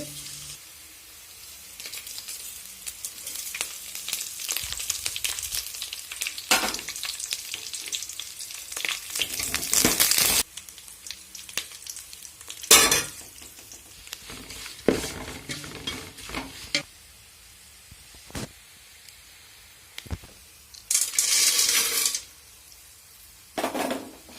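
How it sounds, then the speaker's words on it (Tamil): Garlic sizzles and fries in coconut oil in a pan, a soft, continuous crackle broken by louder bursts of stirring and scraping utensil clatter. "பூண்டு நல்லா எண்ணெயிலே பொரிய விடுங்க"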